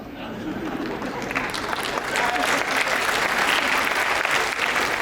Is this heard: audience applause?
yes